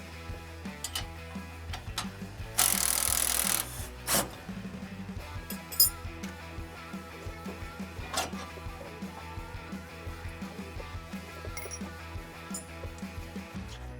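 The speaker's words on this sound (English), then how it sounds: "we are going to loosen the lower shock bolt. 18mm socket, 18mm wrench." An 18mm socket and wrench loosening the lower shock bolt on a Polaris Xpedition side-by-side, with steady rhythmic ratchet clicks and occasional metallic clinks close by, one louder rasping burst partway through.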